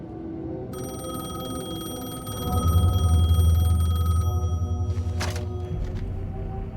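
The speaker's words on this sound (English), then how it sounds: "The payphone was ringing." A payphone in the video game Alan Wake 2 rings with a steady electronic bell tone over a low droning ambience. The ringing cuts off and is followed by a short click as the receiver is picked up.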